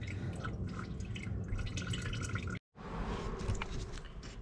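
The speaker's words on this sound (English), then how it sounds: "now we are draining the transmission oil" Transmission oil drains from a 2005 Mercedes C230 in a steady, close trickle with fine dripping and splashing detail, briefly cut off once midway before resuming, and no talk over it.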